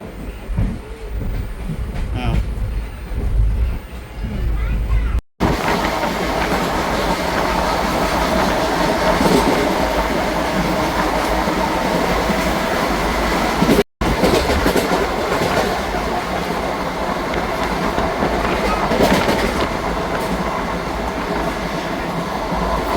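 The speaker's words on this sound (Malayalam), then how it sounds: "ഞങ്ങളിതാ ട്രെയിനിൽ കയറിയിട്ട്" Continuous rumble and rhythmic clatter of a train rolling along rails, heard from aboard, loud and close, with a steady rattling hum throughout.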